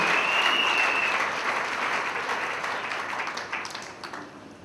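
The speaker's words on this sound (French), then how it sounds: "Can we encourage her to clap offering as she comes?" A church congregation applauds steadily, loud and sustained, the clapping gradually thinning toward the end.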